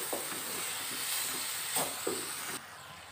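Cumin and coriander powder sizzle in hot oil for a vegetarian drumstick curry, a steady close hiss with a few soft stirring scrapes, ending in a sudden drop to quiet.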